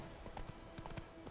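A few hoofbeats from a walking horse in The Witcher 3 sound in quick succession, soft and fairly distant, with no talk over them.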